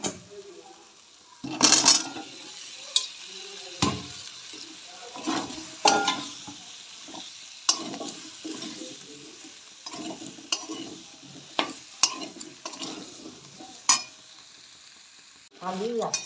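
Potatoes frying in spice masala for aloo dum, stirred repeatedly with a utensil that scrapes and clinks against the pan in irregular bursts over a steady sizzle, close and fairly loud.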